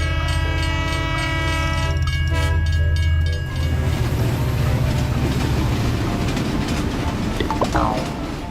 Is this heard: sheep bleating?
no